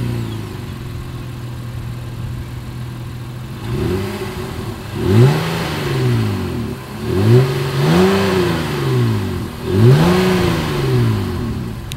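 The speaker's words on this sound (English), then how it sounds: "here is that exhaust clip" A 2020 Honda Ridgeline pickup truck engine idles with a low steady exhaust rumble, then is revved three or four times, each rise swelling to a deep throaty roar before falling back.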